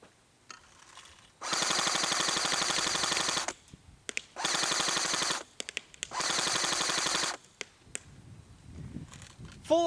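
A King Arms 1928 Thompson airsoft gun fires full auto in three long, rapid bursts of about two seconds each, separated by pauses that hold a few scattered single clicks. The shots are close and loud.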